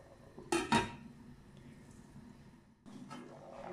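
A lid goes onto a cooking pot of boiling food with two quick metallic clanks, fairly close, followed by quiet kitchen background and a soft shuffle.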